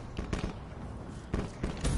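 Several sharp bursts of gunfire in Call of Duty: Black Ops 3, a pair near the start and more around the middle and end, with no talking.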